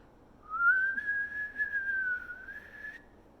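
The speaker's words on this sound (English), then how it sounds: "He whistled once more." A person whistles one sustained, slightly wavering note lasting about two and a half seconds, clear and fairly close over a quiet background.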